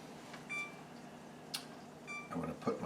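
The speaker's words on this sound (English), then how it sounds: "I'm going to put my timer up here. I'll put it for 25, 30 minutes." A kitchen timer is set for a pork tenderloin pan-roasting in the oven, giving a few short, faint electronic beeps spread across a quiet kitchen, followed by some soft handling clatter.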